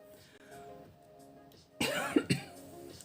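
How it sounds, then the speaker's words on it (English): A couple of sharp coughs after a quiet stretch, close and fairly loud, with faint background sound before them. "Hopefully I don't cough too much."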